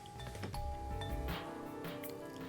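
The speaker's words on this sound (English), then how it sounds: "Once she reached Natsuko's house, she tried pressing the doorbell." A doorbell in the visual novel Root Double rings with a soft chiming tone, faint and brief, repeated a couple of times over a quiet background.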